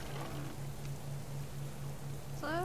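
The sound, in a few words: rain in the video game Subsistence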